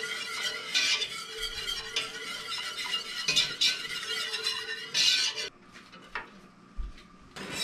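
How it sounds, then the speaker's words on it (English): Dill is whisked into a cucumber relish mixture in a pot, giving a steady scraping, stirring swish with faint clinks of the whisk against the metal. It runs close and continuous, with brief louder strokes and no talking. "I'm just gonna whisk this in."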